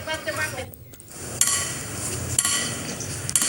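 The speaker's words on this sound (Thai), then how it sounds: "กำลังตอก อตัวที่สามนะครับผม ยาวสองเมตรสสี่ิบนะครับ ดินก็แข็งด้วยนะครับ" A hammer drives a 2.4-metre copper ground rod into hard soil for a delta grounding setup, giving a few sharp metallic strikes spaced about a second apart over outdoor noise and background voices.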